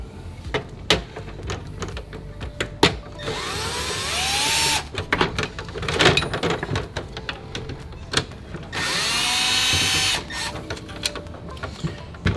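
A power drill backs out two grille screws on a third-generation Toyota Tacoma, giving two sustained whirring runs of a few seconds each between scattered clicks, taps and handling noises.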